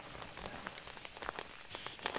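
Rain patters on a tent in the Phasmophobia horror video game, a soft continuous hiss scattered with small faint drop ticks, quiet and steady with no talk.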